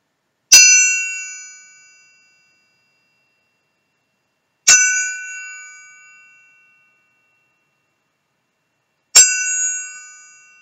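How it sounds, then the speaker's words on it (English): A meditation chime is struck three times, evenly spaced about four seconds apart, each bright ring sounding clearly alone and fading slowly into silence. "I'll ring the chime 3 times."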